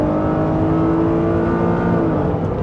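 An Acura NSX with an automatic transmission pulls hard under steady, loud engine drone, the revs climbing and easing through smooth torque-converter shifts, with no talk over it.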